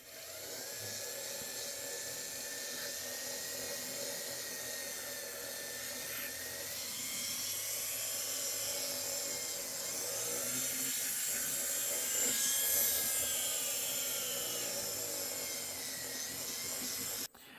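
A Foredom rotary tool polishes a rock with a steady, high-pitched whirring grind that holds for the whole stretch, swelling slightly midway, with no voices over it.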